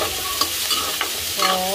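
Onions frying in a pan and being stirred, a soft steady sizzle with a few spoon scrapes against the metal, close and quiet, no talking.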